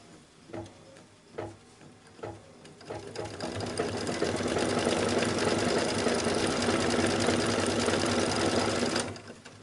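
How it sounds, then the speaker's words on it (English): A sewing machine stitches the lining of a 3D poinsettia espadrille, starting with a few separate ticks and short stitch bursts, then running in a long, steady, close whirring stretch before it stops. "So let's run the machine for our last step of the right panel."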